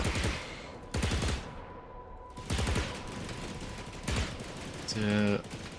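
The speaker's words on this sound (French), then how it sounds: "Les coups de feu tirés avec la SMB suivent automatiquement les cibles à proximité." Bursts of rapid automatic SMG gunfire in the video game The Anacrusis, in short volleys with pauses between, plus an electronic chirping tone near the end.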